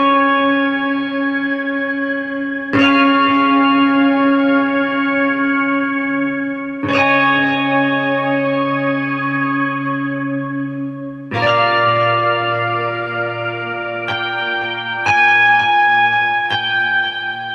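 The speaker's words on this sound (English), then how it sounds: "That sounds like a guitar to me." Sampled guitar patch from the Triple Spiral Audio Endless Guitar library, with sustained, ringing chords struck three times, then a run of quicker notes near the end, all loud and washed in effects and reverb.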